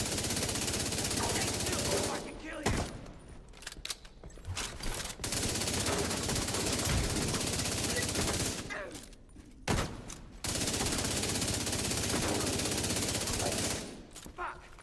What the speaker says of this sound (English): Yeah, it's my my heavy chain gun going on. My minigun.